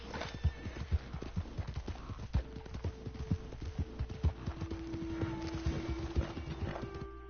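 Horse hooves clip-clop at a walk in Red Dead Redemption 2, a steady close rhythm of hoofbeats with faint background ambience and no talk.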